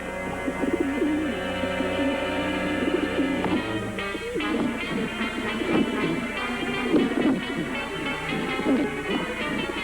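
A flock of pigeons cooing and fluttering close by, with a steady layered murmur of bird calls and busy activity throughout, over a dense background.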